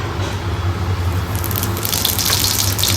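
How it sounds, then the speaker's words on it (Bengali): Radhuni spice seeds are tempered in hot oil for a Bengali chorchori, giving a steady, close hissing sizzle that grows slightly brighter and more crackly toward the end. "এই যে তেল গরম হয়ে গেছে, রাঁধুনি ফোড়ন দিচ্ছি।"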